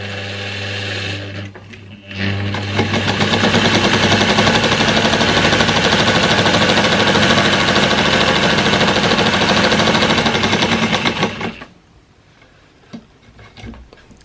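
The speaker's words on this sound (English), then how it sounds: "As you can tell, it's quite a noisy machine." A vintage Singer 99K sewing machine stitching fast: a loud, continuous rapid mechanical clatter running about nine seconds, starting after a brief hum and ending abruptly into quieter handling noise.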